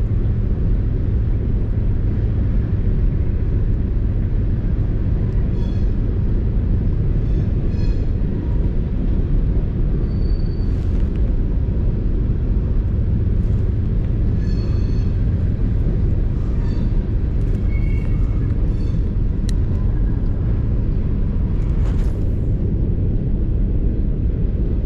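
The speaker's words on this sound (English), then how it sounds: "another train. That's like train number 5 or 6 since I've been here." A continuous low rumble of a train going by near a fishing spot, loud and steady throughout, with faint higher squeals and hiss on top.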